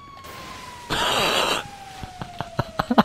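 An ambulance siren in the GTA 5 video game, a steady high tone falling slowly in pitch, heard through a burst of noise and a run of sharp impacts that grow louder toward the end.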